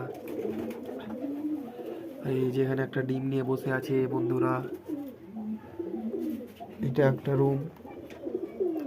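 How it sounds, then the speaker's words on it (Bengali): Pigeons in a pigeon house, one sitting on an egg, give low, throaty rolling coos, near and clear, in long phrases partly overlapping someone talking. "এই যে সব কবুতর"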